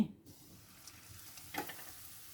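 Steady sizzling of battered potato and prawn chops frying in hot oil in a wok, with a brief louder crackle partway through; no voices.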